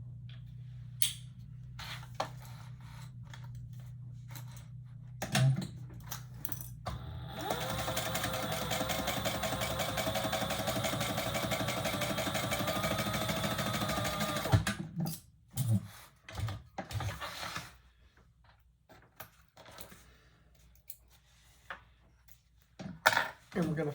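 A sewing machine runs a handbag seam in one steady, fast, whirring burst lasting several seconds, bracketed by shorter mechanical clicks and handling noises. A person talks before and after the stitching.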